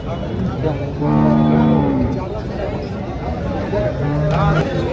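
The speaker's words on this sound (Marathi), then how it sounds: "तर गाई पहा मित्रांनो, भरपूर गाई बाजाराला" Several HF and Jersey cows moo in long, drawn-out calls amid a busy outdoor crowd at the Chalisgaon cow market, with people chattering nearby throughout.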